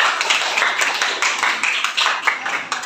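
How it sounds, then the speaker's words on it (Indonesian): A classroom of pupils claps hands together in a dense, steady patter of many overlapping claps, close and fairly loud throughout. "Beri tepuk tangan untuk kita semua."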